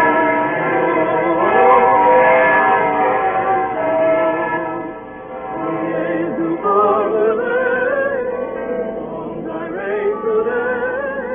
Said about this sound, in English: as the evening bells began to ring high up in the